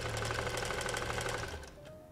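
A sewing machine stitches fabric kitchen mitts, running fast and steady at close range for about a second and a half before slowing and winding down to a stop.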